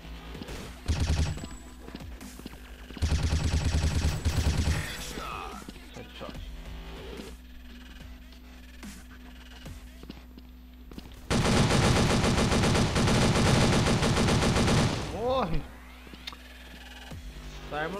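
Gunfire from a weapon in the Blood Strike shooter comes in several loud, rapid automatic bursts, the longest near the end, separated by quieter stretches of game sounds and someone talking.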